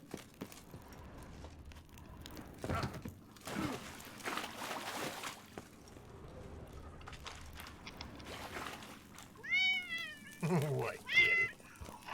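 A pet cat meows several times up close, rising, drawn-out calls near the end, over quiet game sounds and some splashing.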